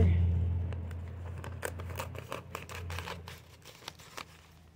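Scissors cut out a picture frame shape in a garden, giving a series of short crisp snips and crinkles, a few closely spaced with pauses between, over a low background hum.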